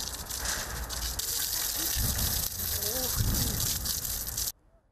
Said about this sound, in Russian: Львы и тигры, услышав плеск воды,